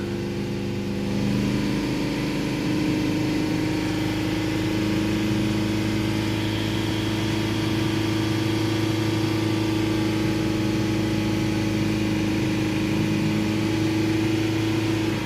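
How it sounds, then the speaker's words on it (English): A Mercedes Sprinter 2.1 diesel van engine with a blocked DPF runs steadily at raised revs, a low continuous drone with a constant hum, close and loud throughout. "Pump all the revs up again."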